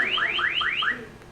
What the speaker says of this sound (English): he heard this piercing beeping fill his ears